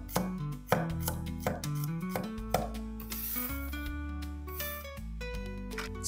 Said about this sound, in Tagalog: Tatarin ang bawang hanggang sa maging medyo maliit na ito.